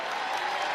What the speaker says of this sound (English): And a nice round of applause as Hassan Ward heads to the VCU bench.